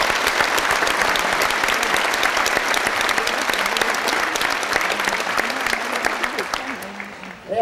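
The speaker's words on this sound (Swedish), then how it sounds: "så också får vi och ge dig en ordentlig applåd" Sustained audience applause fills a church during a concert in Broängskyrkan, many hands clapping loudly and evenly for several seconds before thinning out at the end, with faint voices underneath.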